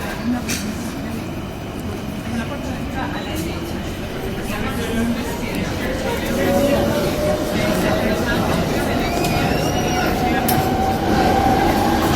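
A STIB/MIVB CAF Boa subway train rumbles steadily on a ride from Schuman to Kraainem, with a rising motor whine and a brief wheel squeal, while people talk over the noise.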